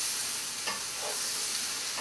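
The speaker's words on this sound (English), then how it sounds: "Stir this up." A spoon stirs Reuben soup with sauerkraut in a pot, soft scraping strokes over a steady low sizzle, close and moderately quiet, with no talking.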